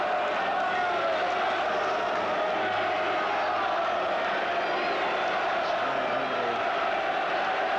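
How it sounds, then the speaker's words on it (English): Crystal Palace supporters at a football match against Orient raise a steady, dense roar of chanting and cheering that fills the stadium without a break, sounding broad and somewhat distant. "Crystal Palace crowd going again."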